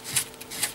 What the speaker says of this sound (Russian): Для этого прохожусь наждачной бумагой разного диаметра.